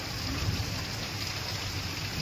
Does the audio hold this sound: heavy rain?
yes